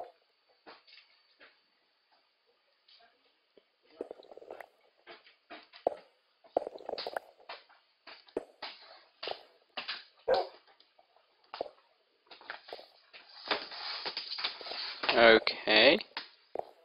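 A dog in the Minecraft video game gives short, scattered barks and whimpers, clustered in brief bursts with quiet gaps, fairly faint and close, mixed with a player talking.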